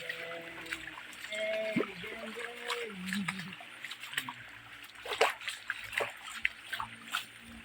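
Water splashing and trickling inside a cave, close and intermittent, with bursts of splashes under a person talking and other voices in the background.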